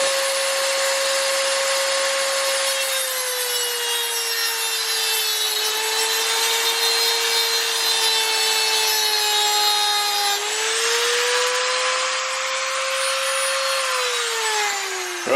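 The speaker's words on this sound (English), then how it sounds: "about to start using the little Dremel, put a little slot into here" A Dremel rotary tool cutting a slot into a stubborn bolt during work on a Honda Civic EK, a loud, continuous high-pitched whine that dips slightly in pitch as it bites, close and steady throughout.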